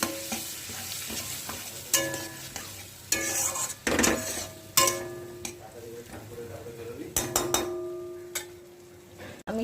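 Fried potatoes with spice masala hiss in a pan while a spoon stirs and clanks against the metal in irregular knocks and scrapes, the sizzle rising and falling under the clatter.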